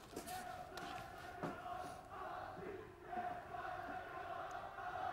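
A crowd at a French reality TV show, Loft Story, shouts and chants from a distance, a steady, muffled roar with rhythmic call-like peaks and a few sharp claps mixed in.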